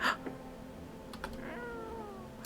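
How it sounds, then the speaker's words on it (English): A cat meows in the horror game No I'm Not A Human, one clear meow at the start, then soft clicks and a rising, wavering whine later on. "Meow. Pet the cat."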